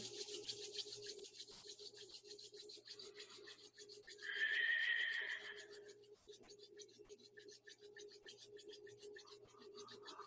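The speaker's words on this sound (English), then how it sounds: "bring the hands to the heart center and rub them together" Hands rub together briskly at chest height during a seated yoga session, a quiet, rapid, rhythmic friction that runs throughout, with a brief higher tone rising midway.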